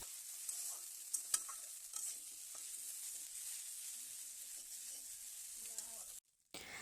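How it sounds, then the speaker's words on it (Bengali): Chowmein and fried egg are stirred in a pan, giving a soft, steady sizzle broken by scattered clicks and scrapes of the utensil, with a brief cut near the end. "নাড়িয়ে চাউমিন আর ডিমটা ভালো করে মিশিয়ে নেব"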